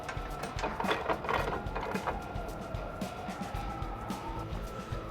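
A bolt with large washer and nut being tightened on an ACE JK Pro Series Jeep rear bumper, a steady mechanical ratcheting and clicking rhythm, moderately loud and close, running continuously over a low background hum.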